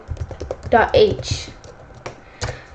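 Quick clicks of a computer keyboard while code is typed, light and close, with a voice talking over the keystrokes.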